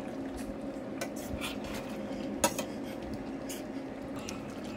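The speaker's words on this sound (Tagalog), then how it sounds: "At pwede na natin ilagay ang boiled egg, guys. Tapos haluin." A spoon stirs adobo-braised pork head with boiled eggs in a vinegar sauce inside a pot, giving soft scraping and occasional clinks against the metal, with one sharper knock midway over a low kitchen hum.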